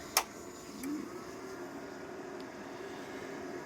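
A Vitals MIG 1300NG welding machine is switched on: one sharp click near the start, then a brief faint tone, over a steady low background hum.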